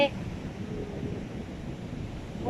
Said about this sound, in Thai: เสียงทะเลเนาะเสียงคลื่นทะเล